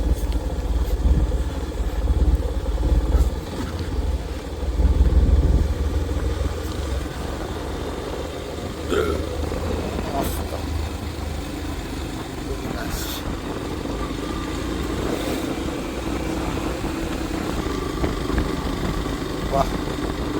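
A motorcycle rolls slowly down a steep hill road near Kasara and Khardi, its low engine rumble steady and continuous under wind buffeting.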